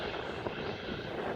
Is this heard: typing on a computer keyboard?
no